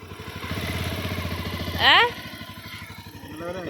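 A motorcycle engine idles with a steady, rapid putter, briefly revving once midway, while voices talk nearby.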